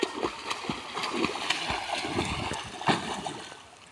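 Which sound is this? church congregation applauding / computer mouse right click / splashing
splashing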